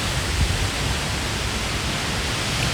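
A waterfall along a hiking trail rushes in a steady, broadband roar, close and continuous with no voices over it.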